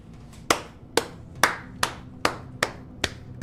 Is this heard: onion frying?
no